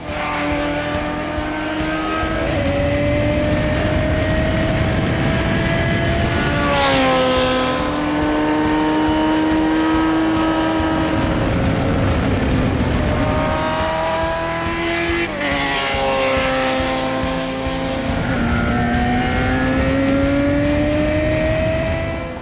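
A Sierra RX3 race car climbing Pikes Peak during the 2020 hill climb, its engine loud and close as it revs hard through repeated gear changes, with rising and falling pitch.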